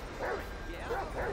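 A dog in the game Grand Theft Auto V barks and yips in several short bursts over a constant low background, with someone talking over it.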